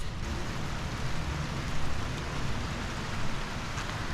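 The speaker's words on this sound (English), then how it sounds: "now when it's only raining very slightly, we are on the way back" Light rain falling around the rice terraces of Ubud, Bali, a steady close hiss of drops on surfaces with no talking over it.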